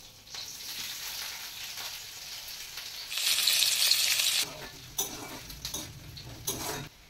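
Chopped onion goes into hot oil with black cumin and green chilli for a potol dolma, setting off a loud, steady sizzle that swells for a moment, with a few sharp clinks of a utensil against the pan near the end.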